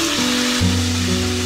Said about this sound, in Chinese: 煎到鸡胸肉表面带着焦黄